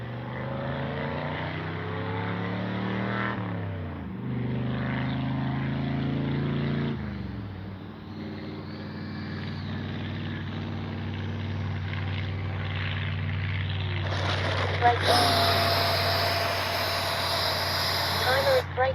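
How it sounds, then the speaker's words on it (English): A Freewing 70mm Vulcan RC model jet's engine drones and shifts pitch in flight, then spools up into a loud, high-pitched whine near the end, with occasional talk mixed in. "Love this jet. One of my favorite sport jets to fly."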